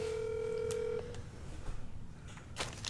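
A rapid burst of telephone keypad tones at the start, followed by a steady dial tone that cuts off, then scattered clicks and soft background noise.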